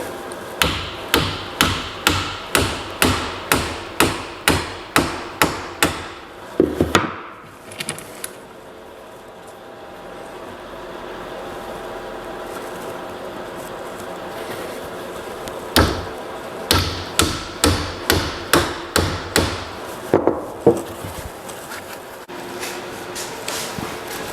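Wooden dowels are hammered deep into a teak potter's bench in quick, evenly spaced mallet strikes. Two bursts of about a dozen sharp, close knocks are separated by a quiet pause with faint handling noise.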